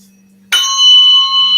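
Tuning fork struck during a biofield tuning session, a sudden bright metallic strike that settles into a sustained, steady ringing tone with clear overtones, loud and alone over a faint low hum.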